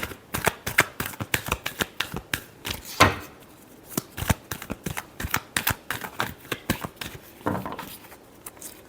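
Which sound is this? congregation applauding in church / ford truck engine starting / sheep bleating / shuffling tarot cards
shuffling tarot cards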